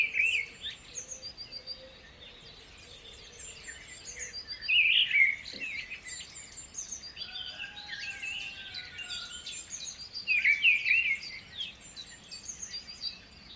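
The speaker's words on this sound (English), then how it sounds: "with the chirping sounds of birds in the background" Birds chirping at a distance in short bursts, with quiet insect-like trilling underneath and no voices.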